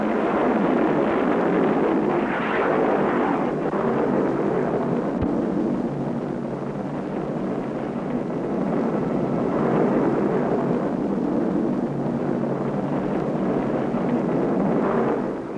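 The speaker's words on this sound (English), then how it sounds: "Fire. Missile away." A guided missile launch fired after a countdown, heard as a sustained broad rushing roar that swells and fades slightly while holding steady for over fifteen seconds, loud and unbroken.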